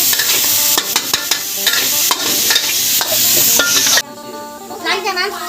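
Minced pork stir-fried in a pan, loud crackling sizzle with rapid spatula scrapes and metallic knocks against the pan, then a brief quieter tail with a faint voice at the end.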